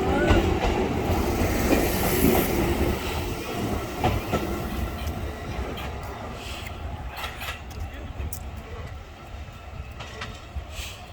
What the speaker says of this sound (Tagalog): Ano kaya yung train na yan? Saan papunta?